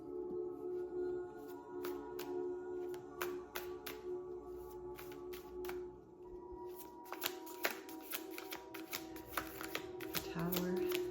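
Rapid riffling and flicking of shuffled tarot cards, a steady papery patter that grows busier toward the end, with faint talk in the background.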